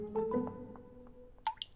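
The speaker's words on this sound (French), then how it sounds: "est-ce que tu as déjà réparé un robinet qui fuit?" Water drips from a leaking tap in a cartoon, a few soft, clear plinks spaced out against quiet, ending with a brighter splashy drop.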